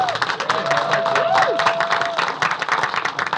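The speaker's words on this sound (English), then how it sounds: "Yes, give them a round of applause." A crowd claps and cheers loudly for children at a Black History event, with a tonal whistle or squeal drifting through, the clapping uneven and lively.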